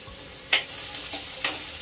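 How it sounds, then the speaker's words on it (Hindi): Drumstick bean pods frying in oil in a pan, a quiet hiss broken by two sharp spatula scrapes, close and brief with no talking. "ये जो बीन्स की है ना फली सजना का डांट, इसे मैं थोड़ा सा फ्राई कर लूंगी"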